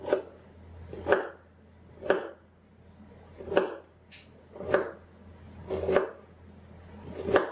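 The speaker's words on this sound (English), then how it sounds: "Doing the ginger, gonna cut this a little bit finer." A knife chopping ginger on a cutting board while making bone broth, seven distinct close thuds at an uneven, roughly one-per-second pace over quiet room hum.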